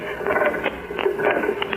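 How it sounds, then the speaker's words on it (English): Rhythmic mechanical clatter of a printing press aboard a boat repeats in quick thumping strokes, running steadily at moderate distance with a faint hum underneath. "A printing press out here on the boat?"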